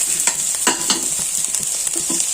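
Green tomatoes stirred into softened onions in a hot pan, sizzling steadily with several distinct scraping stir strokes, close and fairly loud.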